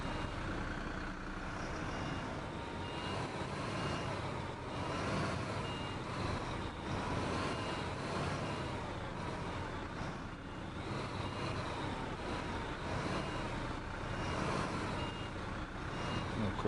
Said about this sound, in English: We're gonna back the trailer down there.